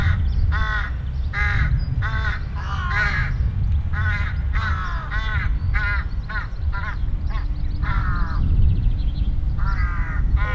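Crows on a golf course caw in a steady series of harsh, repeated calls, fairly close, over a constant low rumble of wind and outdoor noise.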